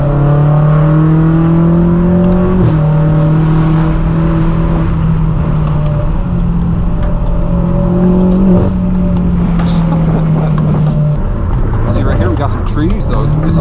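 A BMW M8 Competition tuned to 800 horsepower drives with its loud exhaust, holding a deep droning tone that steps up through gears in several surges, with people talking over it inside the car.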